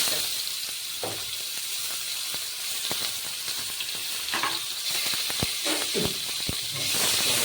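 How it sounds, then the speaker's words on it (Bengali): Chopped onion sizzles in oil left over from frying rohu fish, a steady close hiss of frying broken by sharp crackles and pops, with no talking. "পেঁয়াজটাকেও ভেজে নেব পেঁয়াজটা ভাজা হতে হতে অল্প জিরে দিয়ে দেবো"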